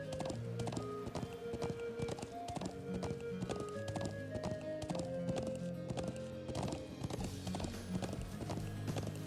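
A white horse trots in the Trails of Cold Steel game, its hooves clip-clopping in a quick, even rhythm throughout, with a faint whinny, all set over a melodic music track.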